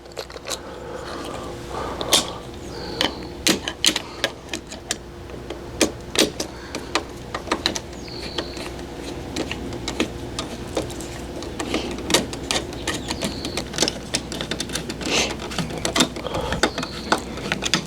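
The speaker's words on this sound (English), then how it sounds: "we'll put the last 2 screws in. They're for this cord reel." A power driver drives screws to attach a cord reel on a Greenworks 3000 psi electric pressure washer, giving short whirring bursts with clicks and handling knocks spread across the stretch.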